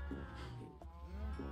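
Cows in the video game Minecraft give a close, drawn-out moo with a second low call following, heard alone without talk.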